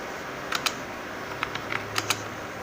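Keys on a computer keyboard tapped while typing a name into a Microsoft Word document, a handful of light, quiet clicks spaced irregularly in small pairs over a soft, steady room hum.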